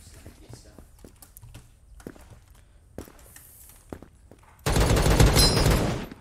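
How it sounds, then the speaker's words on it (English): A semi-auto gun in a video game, preceded by scattered light taps and clicks, then a loud dense burst of gunfire that fills the last second and a half. "Semi-auto is easily the best gun in the game."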